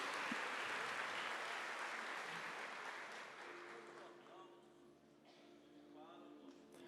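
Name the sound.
audience applause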